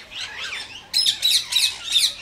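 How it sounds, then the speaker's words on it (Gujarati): Parrots at Sakkarbaug Zoo in Junagadh, Gujarat, where fruit pieces are set out, let out shrill squawks close by: a softer run of calls, then four loud, sharp bursts in quick succession. "જો સતત આ લોકો આજે પોપટ જે છે બોલતા જ રહે છે."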